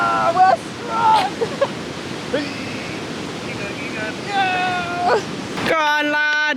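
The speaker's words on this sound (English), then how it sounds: "Just as much water comes in as it does comes out." Continuous rushing water roars steadily through a canal lock gate at Woolhampton Lock on the Kennet and Avon Canal, with high metallic creaks and squeals over it and a few brief voices.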